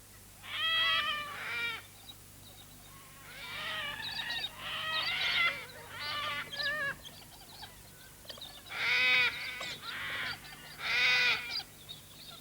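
Cockatoos screech in a series of harsh, ragged calls, several bursts in irregular succession, moderately close in open air with a faint low hum beneath.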